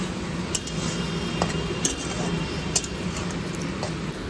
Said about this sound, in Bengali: এবার লো ফ্লেমে আমি এটাকে একটু নাড়াচাড়া করে নিয়ে ভেজে নেব।